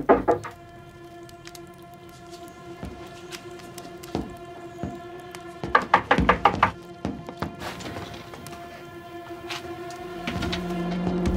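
Police knock on a door: scattered thuds, then a cluster of sharp raps near the middle, with quiet room tone in between.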